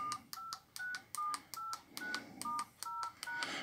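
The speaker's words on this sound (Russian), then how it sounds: "Клавиши все нажимаются мягенько" Eight evenly spaced key presses on a 2003 Nokia 5210 mobile phone, each a short clear beep tone, close and quiet with nothing else heard.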